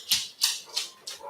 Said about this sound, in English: Oh, Ruby's gonna start barking.